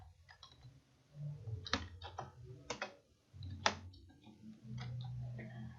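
Computer keyboard typing while entering text into a PowerPoint slide placeholder: irregular bursts of crisp clicks and taps at close range, with a few pauses between runs of keystrokes.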